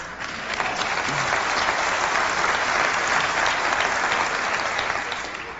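Audience applause at the 1998 Macworld keynote, a large hall crowd clapping in a dense, steady roar that holds at full strength for several seconds before starting to ease off.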